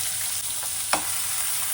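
Green chillies and onion fry in oil in a kadai with a loud, even, steady hiss and one brief stir or clack partway through.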